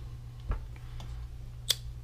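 An IMUSA pot lid is set in place, a couple of light metallic clicks and taps, the sharpest near the end, against a quiet room hum.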